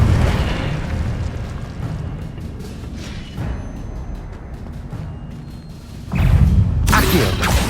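Fire spell cast in Hogwarts Legacy, a heavy booming burst with a low rumbling roar that surges near the end over an ongoing game soundscape, with a voice speaking faintly underneath.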